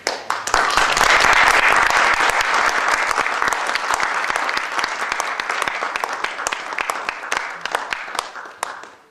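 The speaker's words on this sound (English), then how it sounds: "giving me your attention and clapping for me" Audience applauding loudly at a brass conference clinic, dense clapping that swells early, then gradually thins to scattered sharper claps toward the end, with no voices over it.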